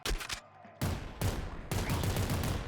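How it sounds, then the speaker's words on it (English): Rapid bursts of gunfire from a golden flame shotgun in the video game Nuclear Throne, dense and loud, repeating in quick succession with short breaks between volleys. "Golden flame shotgun."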